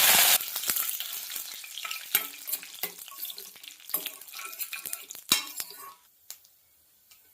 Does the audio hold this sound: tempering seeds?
yes